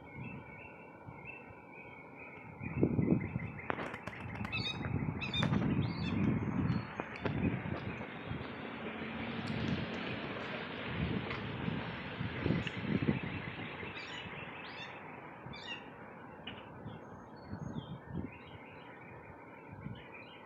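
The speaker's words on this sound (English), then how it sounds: "it's that blue jay, and I have never heard that sound before." Scattered bird calls, a blue jay among them, ring out in short bursts over a steady low background, moderately distant and fairly faint.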